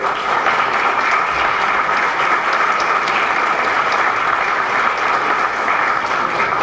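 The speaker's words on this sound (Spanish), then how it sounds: "Sí, hay que aplaudirlo" Loud, sustained applause from a convention audience at a national accounting and tax event in Tumbes, dense continuous clapping without a break from start to finish.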